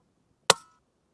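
A single sharp shot from a Retay 2022 rifle at a steel gong target 500 metres away cracks once in near silence, with a brief ringing tail.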